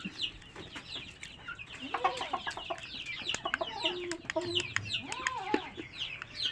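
Local desi chickens cluck softly and repeatedly nearby, a few overlapping birds making short, bubbling calls with occasional louder squawks, no talking.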